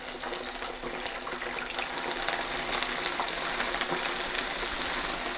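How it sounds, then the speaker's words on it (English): Pork pieces for sweet and sour pork (tangsuyuk) dropped all at once into oil at about 180 degrees for a quick second deep-fry, giving a steady, loud, dense bubbling hiss that carries evenly throughout without a break. "we're going to put all of this in at once and give it a quick fry"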